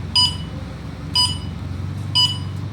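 The turn signal on a D60 electric bicycle gives three clear, high beeps about a second apart over a low background hum.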